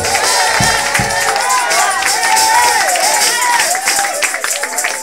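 A church congregation claps and cheers in a loud, sustained wash of crowd noise, with rising shouts and whoops over dense applause throughout.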